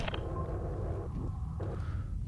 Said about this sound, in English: that is the sound of a swarm